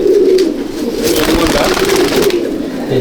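Malwai breeder pigeons in a loft coo in a continuous low, throaty murmur, loud and close, with some rustling and a voice briefly mixed in.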